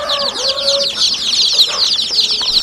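A hen clucks low and steady among a flock of chickens, while a dense layer of high peeping from her chicks runs constantly on top.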